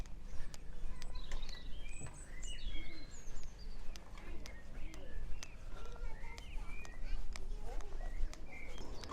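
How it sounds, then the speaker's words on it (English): Birds chirp in scattered short calls and tweets along a street in Winterton-on-Sea on the Norfolk coast, fairly faint against steady outdoor ambience and footsteps. "Hearing the birds chirping."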